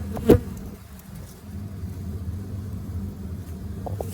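A steady low honeybee drone hums close by at a recovering hive, with a brief louder buzz near the start as one passes the microphone.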